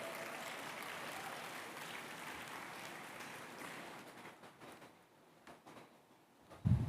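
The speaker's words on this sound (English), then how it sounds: "Let's also give them a round of applause." Audience applause at a graduation ceremony, a steady wash of many hands that holds for about four seconds, then thins into scattered claps and fades, with a brief low thump at the very end.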